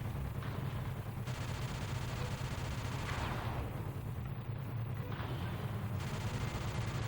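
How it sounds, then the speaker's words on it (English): Rapid, sustained gunfire from the Sly 2: Band of Thieves video game, a dense continuous rattle of shots layered over a busy, loud game soundscape. "You basically are only getting anywhere through sheer erosion by bullets here."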